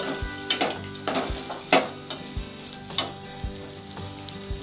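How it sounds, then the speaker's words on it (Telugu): Peanuts stirred into a frying festival prasadam dish in a pan, with repeated scraping strokes of a spoon against the metal over a steady sizzle, close and moderately loud, no talking. "ఇప్పుడు ఇది లాస్ట్కి రెడీ టు డ్రాప్ అనుకున్నప్పుడు దీనిలో పల్లీలు వేసుకుంటున్నాను. వేసుకొని బాగా కలుపుకుంటున్నాను."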